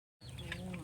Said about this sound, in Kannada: ಇವ್ರ ಮನೆಯಲ್ಲಿ ಕೋಳಿ ಎಲ್ಲ ಇದೆ